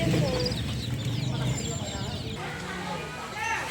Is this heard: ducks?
yes